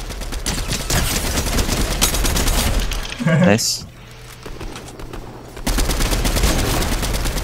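Rapid bursts of gunfire crackle in Fortnite, dense volleys before and after a short lull, while players chatter and someone speaks during the pause.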